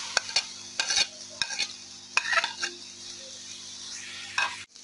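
Onions fry in oil for a gravy, a soft continuous sizzle broken by scraping stirs of a spoon against the pan, close and fairly quiet.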